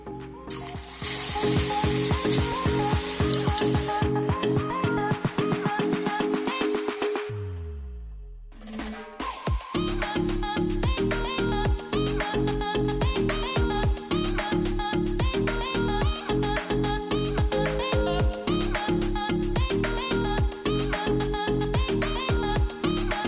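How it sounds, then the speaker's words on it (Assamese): Punjabi pakoras for kadhi sizzle and crackle in hot oil, a loud continuous fry punctuated by clinking utensils and steady rhythmic scraping or stirring. "এতিয়া আমি পকৰিখিনি ভাজিতে দিছোঁ আৰু তেলখিনি গৰম হৈ গৈছে।"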